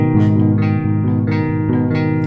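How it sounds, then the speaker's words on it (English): A bass guitar rings out a minor triad, three low sustained notes stepping one after another, close and clear with no talking. "By a minor triad, you have to shift this one down to get a minor third, and it sounds like this."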